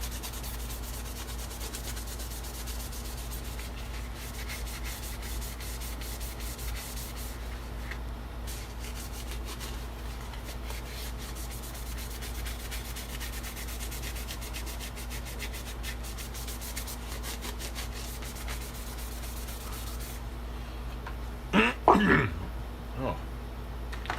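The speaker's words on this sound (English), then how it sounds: "These are one of those sanding sponges." A sanding sponge rubs the gloss off a molded mask in steady, soft scratchy strokes that continue at low level throughout, with a few brief louder knocks near the end.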